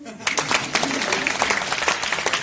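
An audience at a kavi sammelan poetry recital breaks into clapping: brisk, fairly close applause from a crowd, beginning abruptly and continuing steadily.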